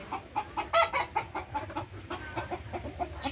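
A silkie hen and chicks cluck softly and steadily nearby, with short repeated calls overlapping in a continuous, busy chatter.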